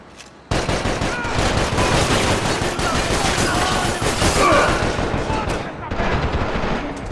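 Max Payne 3 video game firefight: dense, rapid automatic gunfire bursts start abruptly and continue loud and close, with overlapping shots and some voices mixed in.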